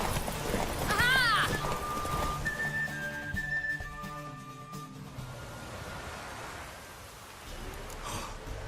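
Horse hooves clip-clopping in the video game The Witcher 3, steady rhythmic hoofbeats under game music with a whistle-like tone and a rising sweep early on.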